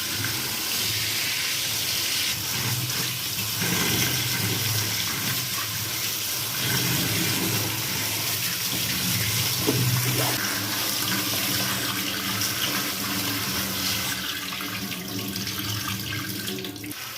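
Vegetables including pointed gourd, ivy gourd, ridge gourd, raw banana, capsicum, potatoes and green chillies being washed under a running tap, with a constant rush of water and splashing, close and loud throughout, no talking.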